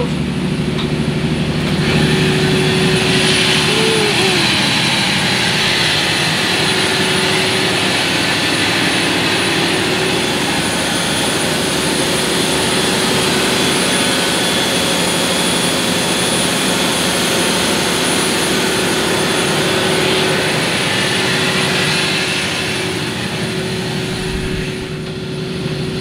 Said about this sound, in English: this is the engine inside. It's a V12.